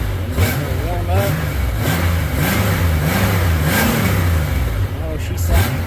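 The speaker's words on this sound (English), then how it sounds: "So let's get up here and give her a couple of revs here." A 1997 Honda GL1500 GoldWing SE motorcycle engine revved a few times after timing belt, coolant and spark plug work, the smooth flat-six rising and falling in close, steady swells.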